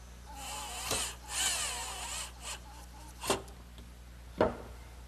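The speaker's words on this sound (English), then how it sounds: "I'm going to fasten them to the lower cross member with a screw" A power drill drives screws into Adirondack chair slats on a lower cross member, giving a few short separate bursts with brief pauses between them, fairly quiet and close.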